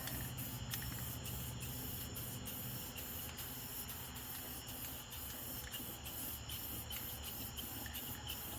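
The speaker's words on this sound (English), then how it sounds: "That's just a spray paint." Steady hissing spray from a spray paint can on Sprinter van wheels, faint and continuous, with a rhythmic ticking pattern running through it.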